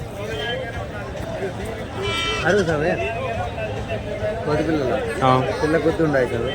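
At the Kadiri livestock market, where goats and sheep are sold along with young lambs and kids, a few bleats rise over steady crowd chatter and people talking nearby.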